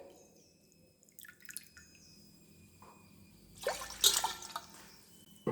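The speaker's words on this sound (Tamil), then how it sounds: "6 டம்ளர் தண்ணி ஊற்றணும்." Water is poured into a pressure cooker for mutton biryani, a quiet trickle and splashing that rises into a louder burst of pouring near the end.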